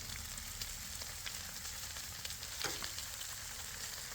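Detwiler's corn smoked bacon frying in a pan on the stovetop, a steady soft sizzle and crackle with a brief louder spatter partway through, no voices.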